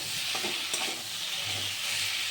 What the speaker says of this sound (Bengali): ছোট ছোট করে টুকরো করে রাখা টমেটোগুলো দিয়ে দিলাম আলুটা ভাজতে ভাজতে